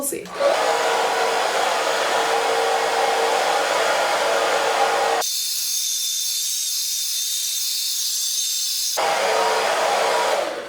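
A hair dryer with a diffuser attachment runs with a loud, steady whoosh and hiss, its tone dropping to a thinner high whine midway before returning to full blast; its back piece breaks.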